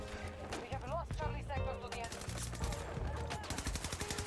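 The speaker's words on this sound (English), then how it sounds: "Oh, I was being shot there." Gunshots in Battlefield 2042 crackle as rapid automatic fire, repeated shots rattling in quick bursts, mixed with game sounds and heard beneath a player's talk.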